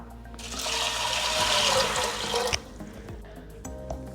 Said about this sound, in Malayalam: ഈ ചെറുപയർ വേവിക്കാൻ ആവശ്യമായിട്ടുള്ള വെള്ളം ചേർക്കാം.